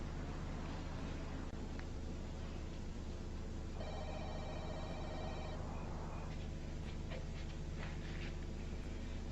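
A telephone rings in a quiet room in a 1997 TV drama, its bell bursting out mid-clip over a low steady hum, with faint panting and small dog-like whimpers nearby.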